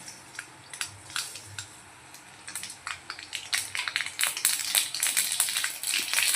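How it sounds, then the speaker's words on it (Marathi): Rapid crackling pops build from scattered ticks into a dense, lively spattering as mustard seeds burst in hot oil close by. "मोहरीचा चांगला आवाज आला"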